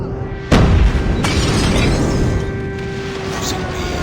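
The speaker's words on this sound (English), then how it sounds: "Friendly airstrike incoming." Friendly airstrike explosions go off in a multiplayer shooter: a sharp, loud blast and a second crack shortly after, followed by a rumbling tail with battle noise and a voice in the background.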